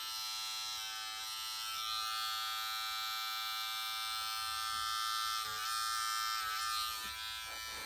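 Electric hair clippers buzzing steadily while cutting short hair in a mid taper, a close, constant high whine with slight shifts as the blade moves through the hair.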